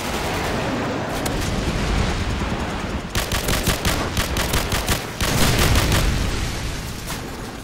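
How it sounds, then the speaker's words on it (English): Rapid gunfire and booming airstrike explosions on a boat in Call of Duty 4, dense bursts of automatic fire stacked over heavy rumbling blasts, loud and continuous with a big explosive surge late on. "Friendly airstrike on the way!"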